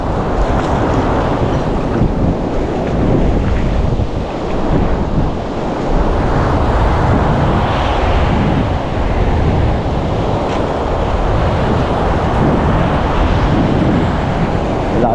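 Loud, constant roar of ocean waves and rushing water mixed with heavy wind buffeting the microphone, with no clear breaks; rough seas near a boat.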